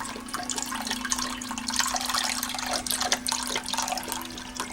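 Beef stock pouring into a stew pot of beef vegetable stew, a steady close splashing liquid stream running for several seconds without pause, with a low constant hum underneath and no talking.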